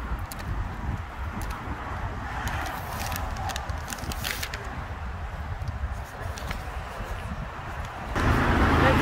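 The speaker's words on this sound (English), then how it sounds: "Excuse the loud traffic. We are on a major road here" Steady, loud road traffic on a major road, Bell Street in Melbourne, with a constant low rumble of passing vehicles that swells louder near the end as a vehicle passes close by.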